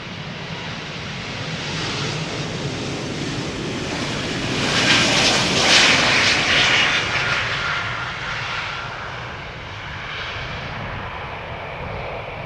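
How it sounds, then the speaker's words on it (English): A KLM Embraer E2 jet airliner takes off, its engines building into a loud broadband roar that swells and peaks midway, then eases into a steady distant rumble with no voices. "E2 Embraer taking off from Cheaters Lane. KLM flight 1271."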